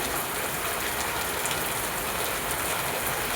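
Steady, dense hiss of rain falling continuously, close to the microphone, with no pauses or voices.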